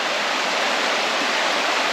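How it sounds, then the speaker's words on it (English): Creek water rushing over rocks at a hiking trail crossing near Devil's Hole, a dense, steady hiss of flowing water close by with no voices. "I think we just made it to our third creek crossing."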